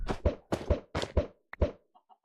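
Chickens clucking in a Minecraft-style survival game, a quick series of short, close clucks and knocking blips in paired bursts, with no talk over them.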